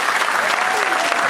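Crowd at a customary wedding in the Republic of Congo applauding the groom, dense close clapping sustained without pause through the short burst.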